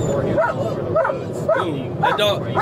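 A police K9 dog barks and yips in a rhythmic series of about four sharp, excited outbursts, close and loud, with a voice talking underneath.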